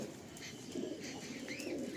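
Pet pigeons cooing in repeated soft, low throaty phrases, fairly close but quiet, with no voices over them.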